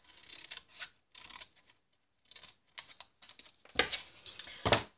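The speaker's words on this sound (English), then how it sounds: "I'm just going to cut off that end." Scissors snip through a piece of scored card in several short bursts of crisp cutting, close and fairly quiet, with brief pauses and a louder flurry of snips toward the end.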